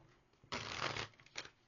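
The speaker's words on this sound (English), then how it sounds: "3 shuffles." Tarot card deck being shuffled by hand, a brisk riffle of cards lasting about half a second followed by a shorter, softer second burst, close and clear with no talking.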